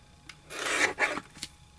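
Scissors or a blade trimming a magazine image for an artist trading card, giving a soft, close rasping cut that lasts under a second, followed by a couple of faint brief snips.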